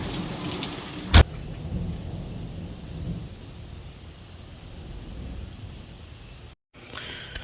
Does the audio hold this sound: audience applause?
no